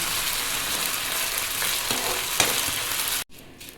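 Flattened rice (aval) frying in hot oil makes a dense, even crackling hiss that holds steady for a few seconds and then cuts off abruptly into near silence.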